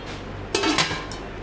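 A metal-handled lid from a KIAM aluminium non-stick cookware set clatters and clinks twice in quick succession, close and fairly sharp, then quiet.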